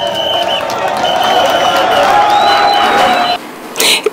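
Crowd in Kwilu applauding an announcement, clapping and cheering together as a loud sustained roar that cuts off abruptly near the end, followed by a brief burst of noise.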